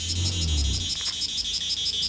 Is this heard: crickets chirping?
yes